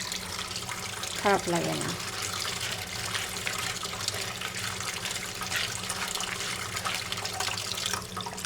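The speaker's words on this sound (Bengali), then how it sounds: "একটু লবণ দিয়ে ধুয়ে নিই।" Mixed small fish, including piyali, washed with a little salt under a running tap, a steady close water stream with splashing, while a person talks briefly.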